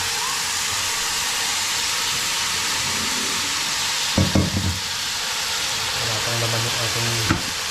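Sliced beef sizzles steadily in a hot pan with a continuous frying hiss, and a few clattering stirring knocks come through the sizzle while a person speaks briefly.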